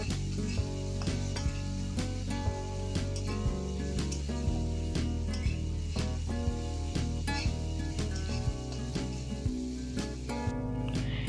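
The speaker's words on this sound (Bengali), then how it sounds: "এরপর আমি সব মশলা এবং লঙ্কা কুচি ও টমেটো কুচিটা দিয়ে দেব। আরও ভালোভাবে আমি এটা 2 মিনিট নাড়াচাড়া করব।" Carrots stir-fried for street-style egg chowmein with spices, chopped chilli and tomato sizzle under background music, with repeated sharp scrapes and knocks of a spatula against the pan.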